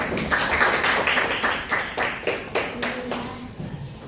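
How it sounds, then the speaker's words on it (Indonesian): A small group claps at the close of a student group's presentation on minor shirk, brisk uneven hand claps running steadily for the full length, fairly close, with some faint murmuring underneath. "Boleh tepuk tangan dulu."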